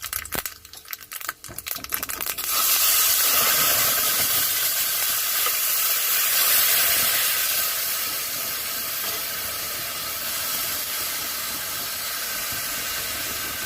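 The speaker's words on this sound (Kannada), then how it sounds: "ಈಗ ಸಾಸಿವೆ ಚಟಪಟ ಅಂದು ಚೆನ್ನಾಗಾಗಿದೆ." Mustard seeds, curry leaves and dried red chillies tempering in hot oil for an okra gojju, with a few sharp crackles at first, then a loud, steady sizzling hiss.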